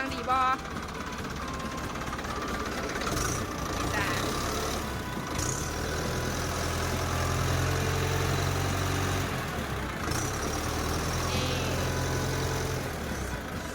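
A Ford 6610 tractor engine runs after starting, its steady low diesel chug and idle continuing throughout at a close, fairly loud level.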